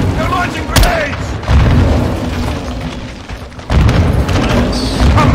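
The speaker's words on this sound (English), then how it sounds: "They're launching grenades!" Grenade explosions in a Modern Warfare 2 battle, several deep booms bursting at uneven intervals amid constant gunfire and battlefield rumble, close and loud, with shouting soldiers' voices over the noise.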